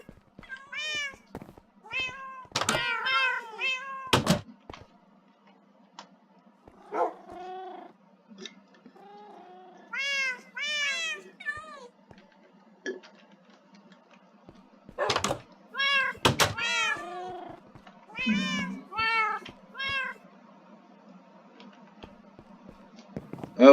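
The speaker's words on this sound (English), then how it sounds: "My lucky block spawned a lot of cats." Several cats in the video game Minecraft meow in scattered clusters, with quick overlapping mews in bursts separated by short quiet gaps, fairly close and clear over a faint low hum.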